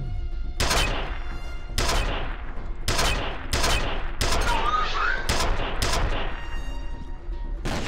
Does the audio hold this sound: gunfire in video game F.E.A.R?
yes